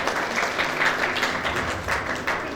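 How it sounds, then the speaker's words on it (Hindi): Applause greets the keynote speaker at an NGO gathering, a moderate, even patter of clapping from the audience lasting the whole short stretch. "जोरदार तालियां for"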